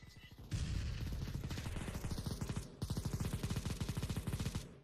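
Negev machine gun in CS:GO fires long, rapid sustained bursts, loud and close, with a brief pause before a second continuous stream of rattling shots.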